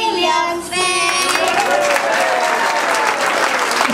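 A crowd applauds warmly at a Greek community event, dense sustained clapping from many hands with some cheering and voices mixed in, loud and close throughout.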